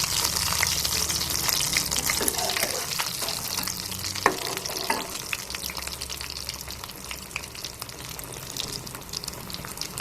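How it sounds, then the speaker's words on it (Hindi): Chicken and potato pizza cutlets frying in a pan, sizzling steadily with crackling spatters and a few sharp pops, heard close and alone without any talk. "2 से 3 मिनट के लिए ही हम दोनों साइडों से फ्राई करेंगे इन्हें"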